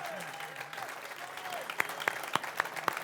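A small studio audience applauds a musician, light scattered clapping that turns into a few sharp, distinct claps toward the end, while a voice talks faintly underneath early on.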